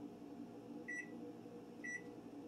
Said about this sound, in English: we're going to pop the rice into the microwave